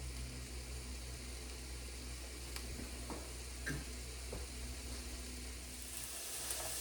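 Peppers and onions sauté in a bean pot with a soft, steady sizzle under a constant background hum, plus a few faint stirring taps and scrapes.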